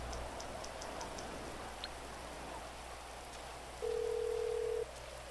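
Phone call in a video game: a single steady dial tone sounds for about a second, clear and close over a constant soft rain-like hiss with a few faint ticks earlier, and no voices.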